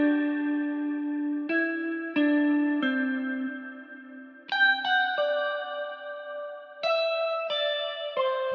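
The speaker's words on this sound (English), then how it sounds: "So it's actually the Evolution Dracus, and I use the Jazz Box preset." A clean guitar from the Evolution Dracus plugin's Jazz Box preset plays a slow sequence of sustained melodic notes. Delay and reverb effects make each note ring and echo into the next, in a fairly quiet, spacious tone.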